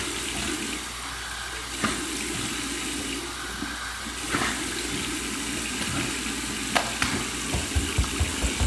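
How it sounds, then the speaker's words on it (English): Cold tap water runs and splashes continuously as a face is rinsed after a shave, with small sharp splashes and hand slaps toward the end. "Here's my cold water rinse."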